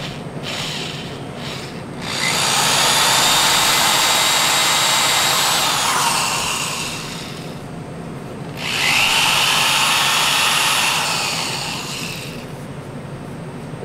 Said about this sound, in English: So I'm going to pre-drill a small hole